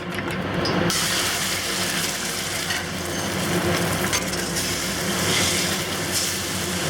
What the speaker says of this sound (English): We're going to add a generous amount of oil here. And we'll cook the eggs.